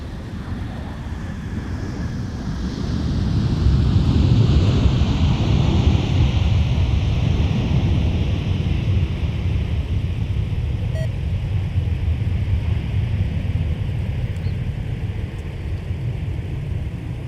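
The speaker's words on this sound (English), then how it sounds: "Nice landing by our hometown airlines, Sun Country" A Sun Country airliner landing at MSP airport, a loud broad roar that swells after a few seconds and then holds as a steady rumbling rush, heard from nearby with no talking.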